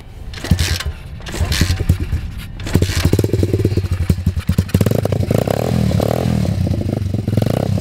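A motorcycle engine starts up with clattering, then idles and revs in a loud, close, steady drone.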